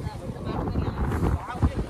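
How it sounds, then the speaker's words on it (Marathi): Wind blows steadily across the sea on a small fishing boat out at night, a rough, continuous rumble that swells and gusts throughout, close to the microphone. "आता वारा सध्या सुटलंय बघा"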